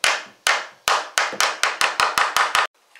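A hammer taps the camshaft housing of a Porsche 944 into place during a gasket replacement. About a dozen sharp, close metallic blows land at an uneven, quickening pace with no talking, then stop.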